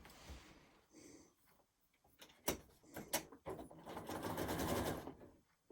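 Sewing machine putting a few stitches through quilt batting: soft handling clicks and taps at first, then a steady close whirring run of stitching toward the end, with no talking.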